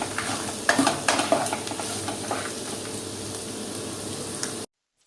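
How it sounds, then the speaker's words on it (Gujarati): Onions sautéing in a pan for Gujarati onion chutney, a close steady sizzle with several sharp stirring scrapes early on, then continuous hiss before cutting off abruptly. "ડુંગળીને આપણે કલર ચેન્જ થાય ત્યાં સુધી સાંતળીશું"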